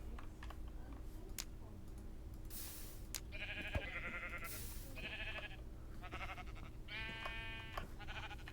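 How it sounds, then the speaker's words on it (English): Several bleats from sheep in a video game, Minecraft, sound in a row over a low steady hum and faint keyboard clicking, fairly quiet and evenly spaced. "Sheep, sheep."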